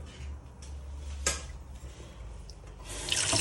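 Tap water runs for a brief rinse in a kitchen, a soft steady splash close by with a sharp clatter partway through and the flow strengthening at the end.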